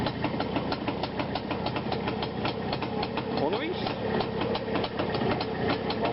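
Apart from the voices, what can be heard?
motorcycle engine running after ignition start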